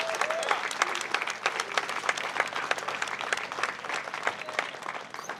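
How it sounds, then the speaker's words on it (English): Steady audience applause at a centennial celebration in an outdoor park in Bristol, Connecticut, many hands clapping evenly throughout at moderate distance, with a few faint voices mixed in. "Let's give a round of applause just for 100 years."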